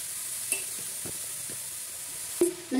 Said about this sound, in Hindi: अब इसमें कद्दूकस किया हुआ गाजर डाल देंगे और डाल के इसमें 20 से 25 मिनट फ्राई करेंगे।